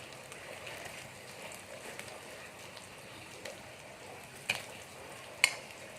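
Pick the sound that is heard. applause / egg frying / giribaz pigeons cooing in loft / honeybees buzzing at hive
egg frying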